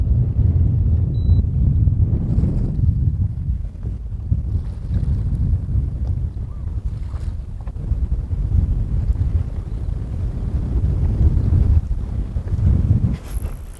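Strong wind buffeting the microphone on a boat while fishing for walleye on a lake, a loud low rumbling gusty roar that swells and eases in waves, with light water sounds beneath and no talking.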